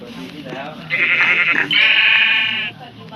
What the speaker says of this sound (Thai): เจอแกะเจอแกะ